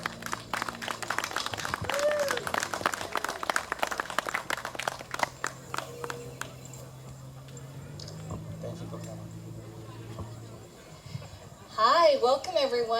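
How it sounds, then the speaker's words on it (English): An audience claps for Judge Pahoua Lor at a Hmong American community gathering in Fresno County. The clapping is brisk and layered for about five seconds, then thins out under a steady background hum and a voice near the end. "Let's give a round of applause to our judge"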